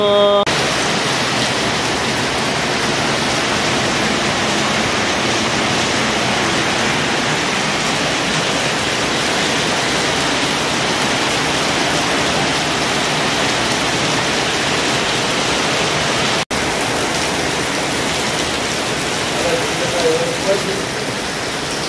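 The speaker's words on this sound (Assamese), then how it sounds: "ধাৰাসাৰ বৰষুণ দিছোঁ সেয়া চাওক একদম পুৰা বৰষুণ" Heavy rain pours down in a dense, continuous roar, steady and loud throughout with no pauses.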